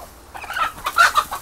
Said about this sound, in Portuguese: Mas olha as galinhas ciscando ali, ó.